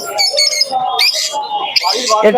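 Pigeons and other birds chirp and squawk in busy overlapping bursts while people talk nearby, at a crowded bird market in Santipur with caged birds.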